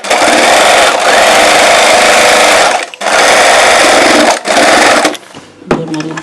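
Sewing machine stitching the neck and shoulder of a churidar, a loud rapid close-up whir in three long bursts split by brief pauses, then quieter handling sounds.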